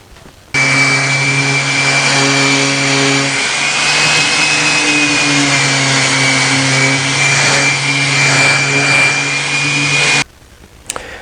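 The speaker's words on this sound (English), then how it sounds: "I'm going to go over this with a random orbit and see what happens" A random orbit sander with 120-grit paper runs across an oak child's rocking chair, a loud, steady electric whir with a high whine that starts abruptly and cuts off after about ten seconds.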